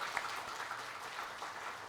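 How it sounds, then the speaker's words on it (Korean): Church congregation applauding after a choir and chamber ensemble performance at a Sunday New Year service; steady, dense clapping from a crowd, fairly distant and even throughout. "우리 박수하겠습니다"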